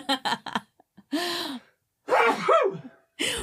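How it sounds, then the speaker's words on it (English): A sharp gasping inhale, then a forceful sneeze burst, followed by a drawn-out vocal sound and another short burst, close and loud. "sneeze coming"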